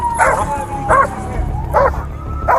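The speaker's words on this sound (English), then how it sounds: "I got the dog!" A police dog barks in four sharp, evenly spaced bursts, close and loud, with a faint tonal whine running between the barks.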